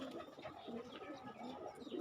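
Pet pigeons coo softly close by, a quiet run of low, throaty rolling calls repeating without a break.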